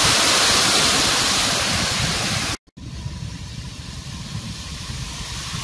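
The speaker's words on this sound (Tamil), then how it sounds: "எங்கெங்கு காணினும் அருவிகள்" Waterfalls cascade at Madikeri in Coorg, making a loud, steady broadband roar of falling water that breaks off abruptly midway and comes back slightly softer.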